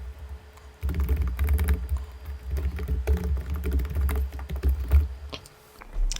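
Rapid keystrokes on a computer keyboard entering text, a dense run of close, punchy taps with a few brief gaps and a soft low thump beneath each press.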